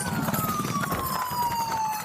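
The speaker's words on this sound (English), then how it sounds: "The officer first following in his car with lights and sirens." A police car siren wails steadily with a slowly falling tone, sounding during a pursuit of a suspect on a street and mixed with a low background rumble.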